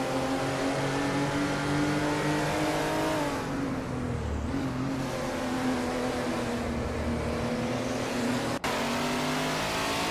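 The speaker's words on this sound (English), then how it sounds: "Bot Tyler Drums 31 is driving a Group 6 Porsche 936 from 1977." A 1977 Group 6 Porsche 936 race car in a racing video game drones at high revs, its engine note sustained and loud, with a slight dip in pitch midway through and no voices.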